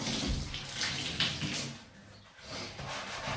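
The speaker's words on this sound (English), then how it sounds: "rinse the sponge out and do it again" Sponge rinsed under running water during bathroom cleaning, a soft steady rush of water with squishy rubbing, fairly faint and close, without talking.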